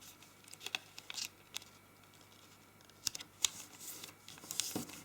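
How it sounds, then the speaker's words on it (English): Origami paper being squash-folded for a spinning top model: light crinkles and soft sliding creases come in scattered bursts, fairly close, with no voices. "Again, squash fold it."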